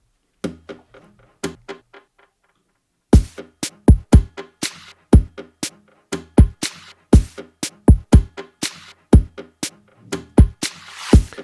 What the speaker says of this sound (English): acoustic guitar percussion loop